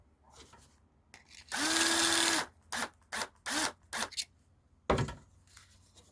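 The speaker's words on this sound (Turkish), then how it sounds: "Dört milimlik matkapla diğerimi açıyorum." An electric drill with a 4 mm bit whirs in several short bursts while boring holes in wood, one longer run followed by quick stop-start pulses, close up in a quiet room.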